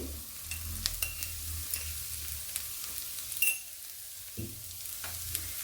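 Onions with turmeric, salt and chili powder are stirred in a frying pan, giving a soft steady sizzle with repeated light scrapes and clicks of the spoon, close and fairly quiet.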